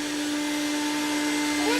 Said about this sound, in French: Là, on a un bouton, j'allume. Voilà, donc là, il s'est démarré.